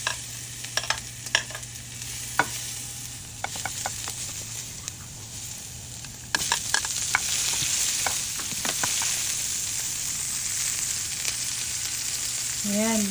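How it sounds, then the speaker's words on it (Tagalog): Garlic sautéing in a pan for udon with mushroom sauce makes a continuous hissing sizzle with scattered crackles and stirring clicks, and it grows louder partway through. A brief voice sound comes at the very end. "Ginisa ko ang bawang."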